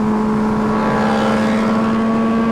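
An Aprilia RSV4 motorcycle engine holds a steady, loud, high-pitched drone as it accelerates, sounding fairly close and heard alone without talk.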